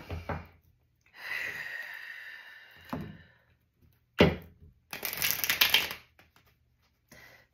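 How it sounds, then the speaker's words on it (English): A tarot card is drawn from a deck during a Gemini full moon reading. The clip holds a few sharp rustles and snapping card sounds, with a longer sliding swish midway and near-silent gaps between. "Let me just pull a card here."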